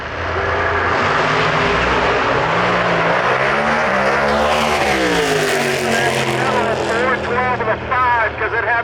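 A drag racing car with a 940 cubic inch engine and four stages of nitrous roars loudly down the strip, its engine note rising and shifting as it pulls away, with a voice talking over it.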